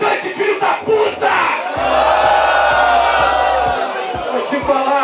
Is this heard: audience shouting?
yes